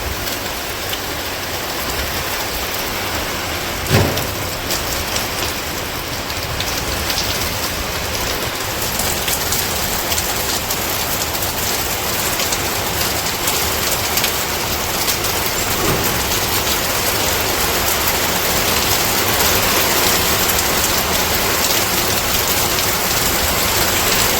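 Heavy rain pours steadily outside a village house, a dense continuous hiss of drops on surfaces that builds slightly over time, with no talk.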